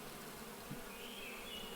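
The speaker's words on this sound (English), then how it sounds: "we've got quite a few bees in here" Bees buzzing in the beekeeping video game APICO, a soft continuous drone with a faint higher whirring tone rising in the background, quiet and unaccompanied by speech.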